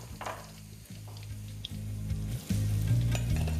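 Three medium onions, thinly sliced, frying over high flame with dry and green chilies, giving a continuous close sizzle that swells near the end over a low steady hum.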